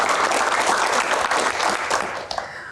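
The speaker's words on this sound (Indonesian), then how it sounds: "tepuk tangan anak kolong" A crowd at a Q&A event breaks into loud, sustained clapping that fades toward the end.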